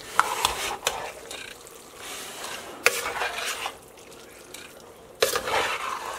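A spoon stirs chili beans in a big pot as salt is mixed in, with scraping clatters against the pot and soft wet stirring, a few sharper knocks standing out.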